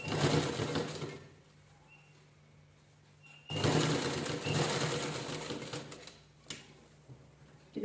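An electric sewing machine stitches a cushion cover made from blouse pieces in two bursts of steady, rapid whirring and clatter with a quiet pause between them, heard close.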